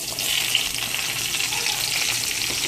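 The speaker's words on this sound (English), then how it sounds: "After your bacon is brown, add your onions." Browned bacon and freshly added onions fry in a pan, giving a continuous bright sizzle with soft crackling that holds steady throughout, close and alone.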